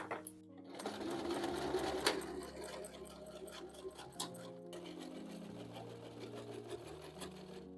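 A sewing machine stitching thick bag fabric slowly beside a hem, running as a close, rapid mechanical whir with short pauses and restarts.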